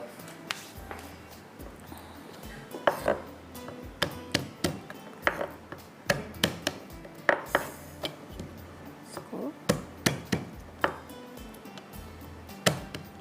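Garlic cloves are chopped with a knife in a kitchen. Irregular, fairly quiet blade taps strike a cutting board in quick clusters, close by and without speech.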